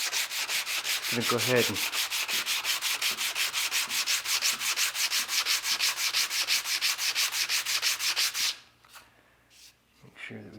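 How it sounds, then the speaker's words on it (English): Steady back-and-forth hand sanding of a leather Viking-style puukko knife sheath, close and loud, fast regular strokes for about eight seconds before stopping; a voice speaks briefly near the start. "So this is going to get hand sanded from here."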